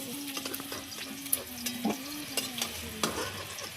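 Aubergine and potato fry in a pan, a soft, low sizzle with scraping and stirring clatters as pieces are lifted out, and a steady tone humming underneath.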